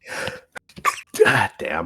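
A single sharp human sneeze bursts out close and loud amid speech, followed by a muttered exclamation, during a tabletop role-playing session.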